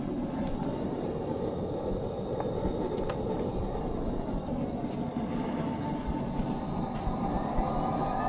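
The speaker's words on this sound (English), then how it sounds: "put on the blower" A blower runs on a wood gas gasifier, a steady close whooshing drone with a few faint clicks and taps over it, and no one speaking.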